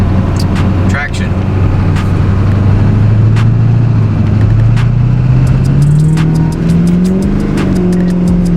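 Vehicle towing a trailer drifting sideways in snow, steady loud engine drone revving up and rising in pitch with clicks and rattles close by, while a person talks over it.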